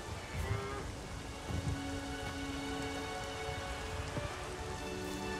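Steady rain pours through a thunderstorm in The Witcher 3, heard alone and unbroken, with low rumbling thunder rolling underneath and a few sharper cracks standing out near the middle and end.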